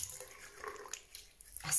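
Tap water runs briefly as hands are rinsed after a scrub, a short, soft splashing patter that swells into a louder gush at the very end, with no voices.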